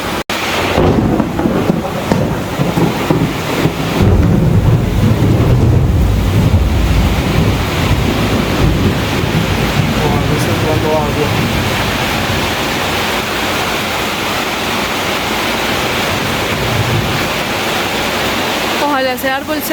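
Tropical storm on the Colombian Caribbean coast, with loud, steady wind roaring against the microphone over crashing surf and a low thunder-like rumble, sustained without a break.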